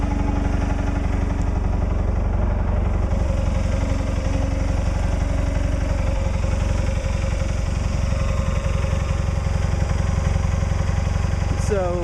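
A Cub Cadet 1862 garden tractor with a 54-inch deck runs steadily at a loud, constant idle, its engine drone and vibration continuing unbroken throughout.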